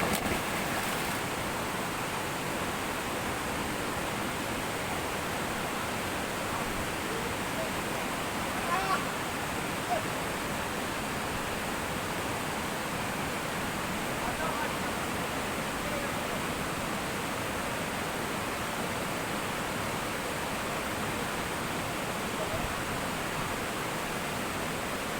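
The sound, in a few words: hidden waterfall near Padang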